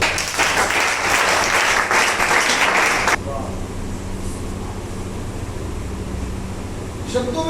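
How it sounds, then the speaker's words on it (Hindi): Audience applause at a drug rehabilitation center gathering, dense and loud for about three seconds, then breaking off abruptly and leaving a low murmur of room noise, with a brief scatter of claps returning near the end. "मारो ताली इसके लिए।"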